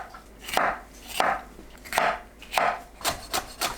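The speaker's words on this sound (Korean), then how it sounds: "파는 작게 썰어줍니다." Green onion being chopped small with a knife for a seafood nurungji-tang: about eight crisp, evenly spaced blade strikes on a cutting board, close and clear, with no talking.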